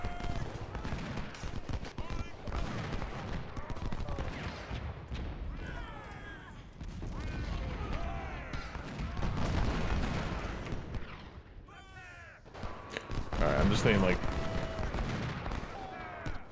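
Volleys of gunfire and booming artillery from the Civil War battle game The Final Gettysburg roll on continuously at a distance, layered and rumbling, while voices talk over the battle.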